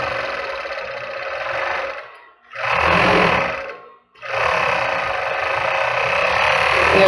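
A sewing machine stitches fabric for panties with a loud, steady motor whir. It runs for about two seconds, stops briefly, whirs again, pauses once more, then runs on continuously, close up with no talk.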